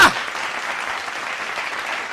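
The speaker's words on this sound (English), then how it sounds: "Can I get a round of applause for that?" A studio audience on a talk show bursts into applause, loud at the start and then settling into a steady, dense clapping that carries on for a couple of seconds.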